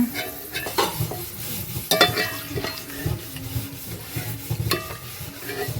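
Raisins fry in hot oil for Malabar chicken biryani, a soft sizzle broken by sharp scraping clinks as a spoon stirs and lifts them from the pan, fairly close and without talk.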